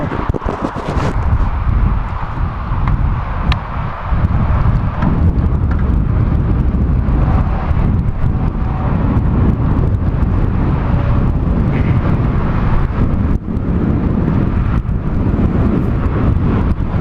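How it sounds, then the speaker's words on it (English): Steady wind roars across the microphone during a road bike ride along an exposed coastal stretch between Dana Point and La Jolla Shores, a loud continuous rushing buffet with no talk. "Nice little wind up today, especially in this exposed area."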